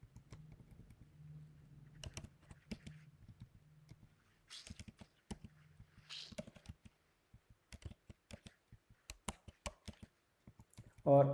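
Sales figures typed into a spreadsheet on a computer keyboard, quiet close clicks in short irregular bursts with pauses, ending in a louder tap.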